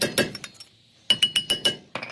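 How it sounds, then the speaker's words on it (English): Hammer taps on the metal dust cover of a CV axle on a Duramax truck: a few light metallic clinks, a pause, then a quick run of five sharp close strikes and a softer pair at the end. "You might need a hammer to break it loose."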